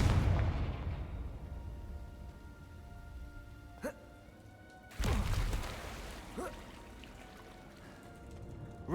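Two separate Confringo spell blasts in Hogwarts Legacy, each a loud, booming burst that fades away gradually, with a short crackling whoosh in between.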